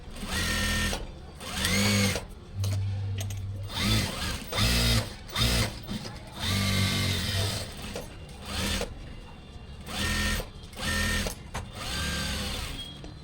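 A sewing machine runs in repeated short bursts while stitching the inner fabric of a doctor's coat, a steady mechanical whir that starts and stops every second or so. It is close and fairly loud, with no talking.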